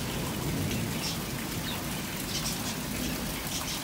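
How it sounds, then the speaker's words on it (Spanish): Heavy rain pours steadily and loudly throughout a thunderstorm, a dense continuous hiss with a deep low rumble beneath it. "Una tormenta muy ruidosa, mi gente, muy ruidosa."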